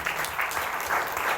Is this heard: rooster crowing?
no